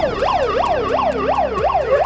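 An ambulance siren wails in a steady rising-and-falling cycle, about five sweeps in two seconds, loud and close with a faint road rumble beneath and no voices.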